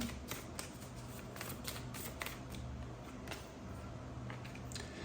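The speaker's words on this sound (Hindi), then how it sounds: "I have to shuffle again." A deck of playing cards is shuffled repeatedly in a quiet indoor setting during a card reading, giving a run of soft riffling and flicking bursts at close range with no talk.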